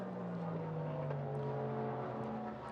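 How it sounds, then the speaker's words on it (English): A Cadillac V8 race car in qualifying at the Rolex 24 at Daytona, its loud, steady engine drone holding a low pitch that sags slightly as it shifts down, heard from trackside with no one talking. "And if you're trackside, listen to the downshifts."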